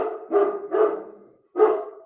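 A dog barking three times in close, loud, full-throated barks, the first two in quick succession and a third after a short pause.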